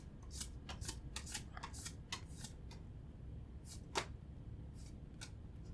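A Pokémon card booster pack is opened, with a quiet run of crisp crinkles and papery rustles coming in irregular bursts of foil and cards being handled close by.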